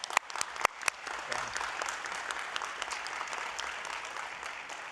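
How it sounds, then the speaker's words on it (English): Applause from an audience at a county board of supervisors meeting, a steady patter of clapping at moderate distance lasting several seconds, with a few sharp louder claps near the start. "Let's give them a round of applause."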